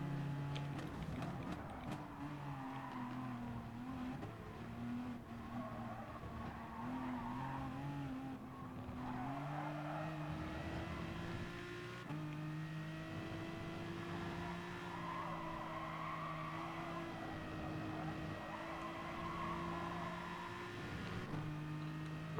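Race cars with loud, sustained engine drone rising and falling through gear changes, with tire squeal, in a Gran Turismo-style racing game at Dragon Trail Gardens, continuous throughout.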